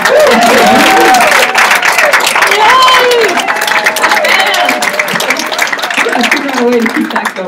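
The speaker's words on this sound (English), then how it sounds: "Let's give them another hand of applause." A church congregation applauds the musicians in a loud, steady round of clapping mixed with crowd noise, while voices talk and call out over it throughout.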